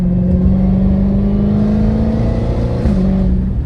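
An 800hp Dodge Hellcat Redeye engine rumbles loud and close in a steady, unbroken drone with a firm low tone, no one speaking.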